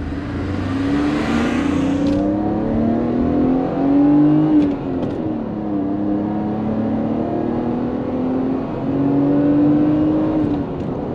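A Mercedes-Benz R129 SL roadster with a 32-valve engine revs repeatedly, the engine note climbing and falling in several loud, close sweeps over a steady idle-like drone.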